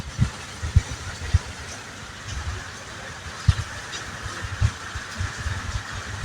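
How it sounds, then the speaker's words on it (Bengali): Bus engine rumble while driving from Boalmari to Dhaka, with irregular thumps and rattles from bumps in the road, steady and continuous with no voices. "আমাদের গাড়ি চলতেছে বাট ভালোই"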